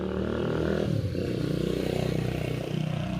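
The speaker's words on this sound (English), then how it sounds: "More motorcycles." Steady motorcycle engines drone and rumble close by on a street in Lomas de Mazatlán, a continuous low roar that swells slightly as bikes pass.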